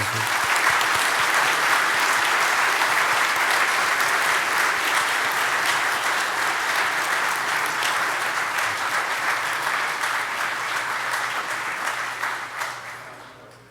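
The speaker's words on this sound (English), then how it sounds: "Let's give them another round of applause" Conference audience gives a long round of dense, steady applause that fills the room, sustained loudly and then tapering off near the end.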